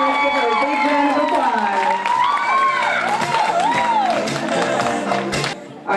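At the Miss Pangasinan pageant's candidate presentation, a large crowd cheers, whoops and applauds loudly for a contestant, with rising and falling shouts over the steady clapping.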